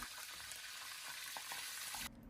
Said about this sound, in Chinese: 将它的身上每个地方的鸭皮都给它煎一下